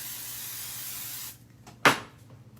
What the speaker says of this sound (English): So I'm just gonna get my basting spray